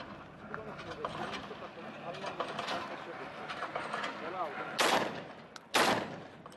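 Two sharp, loud shotgun blasts from a gun fitted with a UTAS XTR-12 muzzle brake ring out toward the end, following quieter background chatter and outdoor range noise.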